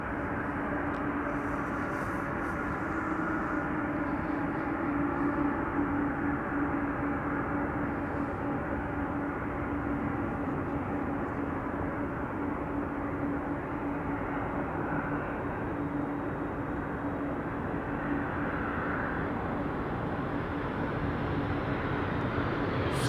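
Air Canada Boeing 787-8 Dreamliner airliner arriving at Amsterdam Schiphol from Toronto, a steady broad distant jet roar that holds unbroken throughout with no talking.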